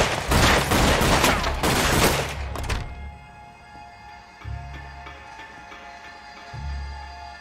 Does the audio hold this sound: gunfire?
yes